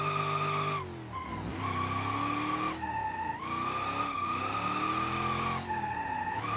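Continuous tyre squeal from a car drifting through a BeamNG course, played on a MOZA R21 direct drive wheel, with a loud steady engine drone and screeching tyres rising and dipping as the slide is held almost without break.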